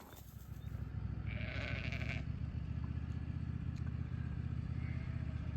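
Sheep bleat during a sheep and cattle drive, one clear nearby bleat standing out over a steady low rumble of engine or hooves and farm ambience.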